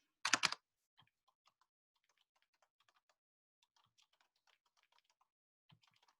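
Light typing on a computer keyboard: sparse, soft key taps spread irregularly after one louder knock at the start, quiet and close.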